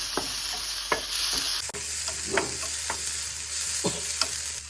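Onions and green bird's eye chillies frying in a pan, stirred with a spoon that scrapes in scattered strokes over a continuous close sizzle, no talking.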